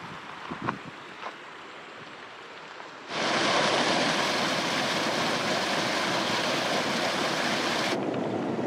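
A waterfall in a desert canyon along a trail through the Grant and Quinn Canyon ranges, heard after a quiet moment with a couple of faint knocks and then a steady, loud rush of falling water.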